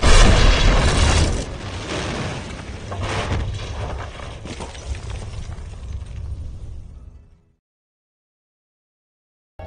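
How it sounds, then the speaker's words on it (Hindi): A bomb goes off inside a meeting room in a 1944 wartime film: a massive, loud blast followed by seconds of roaring, crackling debris and rumble that fades out into sudden silence. "यहाँ मीटिंग के दौरान बॉम्ब एक्सप्लोड होता है।"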